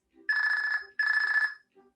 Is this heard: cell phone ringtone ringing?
yes